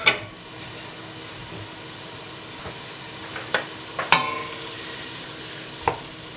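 Chopped leeks poured into a hot soup pot for cheese-leek soup, a soft steady sizzle with a few sharp clinks and scrapes of the spoon against the pot, close and alone.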